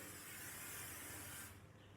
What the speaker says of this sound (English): I'm just going to, spray my bowl